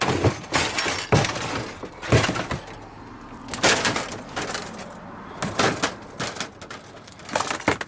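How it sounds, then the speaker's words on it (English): Thin glass inside plastic from a flat-screen TV panel being broken by hand during teardown for scrap: a series of sharp, close cracks and crunchy snaps in irregular bursts, with brief crackling in between. "All this is glass inside of plastic. See how I break that?"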